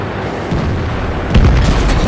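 A T32 tank cannon fires in World of Tanks, followed by an explosion: a close, loud, booming blast with a low rumble that swells sharply about midway, layered over steady battle noise.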